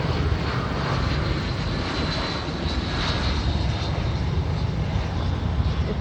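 A Gulfstream 100 private jet coming in to land at an airport, its engines giving a loud, continuous, close roar that stays even throughout.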